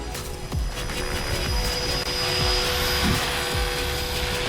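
A Blade 330S RC helicopter flies outdoors on an overcast, calm day, its whining rotor and motor buzz steady and fairly loud, with rhythmic low swooshes as it passes.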